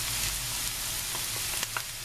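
Red and green peppers fry in a pan with salt, red pepper and black pepper, giving a soft continuous sizzle with a few brief utensil taps near the end.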